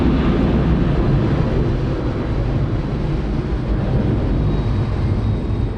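Airbus A330 landing on runway 34 left at Sydney Airport, a steady, loud broadband roar of engine and airflow that holds constant throughout with no voices.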